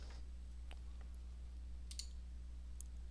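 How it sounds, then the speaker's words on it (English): A computer mouse gives a few faint, isolated clicks over a steady low hum, with no talking. "I'll then click Save"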